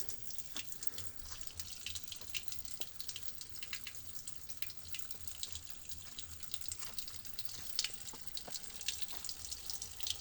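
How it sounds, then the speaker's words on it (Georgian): Spring water at Milistskaro pours in a steady, close stream, a continuous hissing splash with occasional drips standing out, and no voices. "ეს კაი წყაროა."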